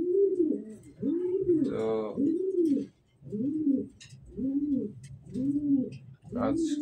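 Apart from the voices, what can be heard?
pigeons cooing at home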